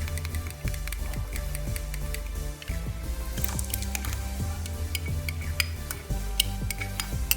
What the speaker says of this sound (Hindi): दही को थोड़ा फेंट लेंगे।